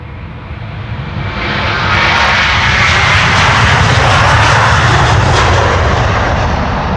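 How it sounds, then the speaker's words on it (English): A Delta Airlines Airbus A330-300 jet departing Amsterdam Schiphol Airport, loud engine roar swelling within the first two seconds and then holding as a broad, close, sustained rumble. "Delta Airlines Flight 237 to Tampa, Florida is now coming this way. It's an A330-300."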